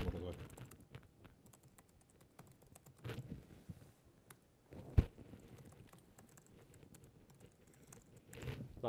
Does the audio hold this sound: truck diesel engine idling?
no